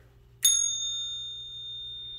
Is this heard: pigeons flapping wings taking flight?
no